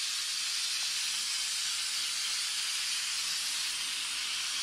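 A Kärcher SC4 steam cleaner releases steam in a continuous, steady hiss that is loud and close, with no voices over it.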